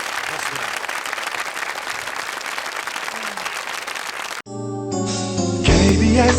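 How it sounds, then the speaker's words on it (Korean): Studio audience applause at a Korean TV variety show, broadband and steady for about four seconds before cutting to bright music with voices. "이 만남에 박수를 한번 보내서 축하해 주시기 바랍니다"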